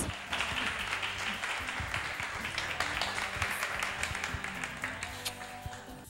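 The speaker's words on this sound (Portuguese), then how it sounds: "por isso soltamos o áudio para receber com muitos aplausos Jean e Josimar" A television studio audience claps to welcome the guests Jean and Josimar: dense, sustained applause that fills the space and then thins out toward the end.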